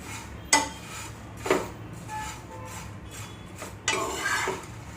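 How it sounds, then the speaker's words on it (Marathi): Poha is roasted on a hot griddle pan over a low flame, with a spoon sharply clinking and scraping against the metal a few times, then a short rustling stir. "आणि मंद आचेवर भाजून घेऊ."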